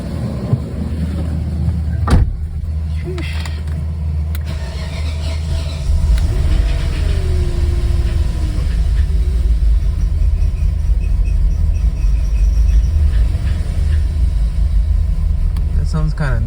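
Running engine of a 1995 BMW 540i E34 under restoration after a Seafoam treatment, a steady loud rumble with a knocking character, heard up close in a garage with some scraping and clatter early on.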